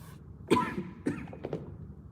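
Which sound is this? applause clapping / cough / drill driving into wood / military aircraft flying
cough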